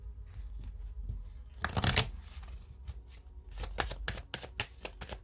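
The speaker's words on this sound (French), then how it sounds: "Je vais bien mélanger parce que je les prends à l'endroit" Tarot cards of the major arcana are shuffled by hand up close, crisp riffling bursts and soft slides in irregular clusters, with quiet pauses between them.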